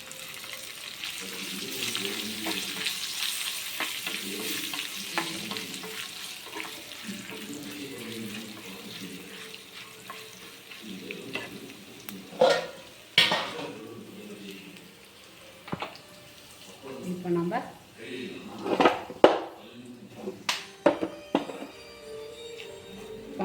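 Asafoetida and curry leaves frying in hot oil for Kanchipuram-style rava pongal, a steady close sizzle with sharp crackles and clatter of stirring, and a faint murmur of voices in places.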